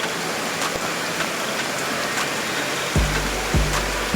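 Steady rain pours down over a rubber plantation as an even, loud hiss that stays constant throughout. Low thumps are heard near the end.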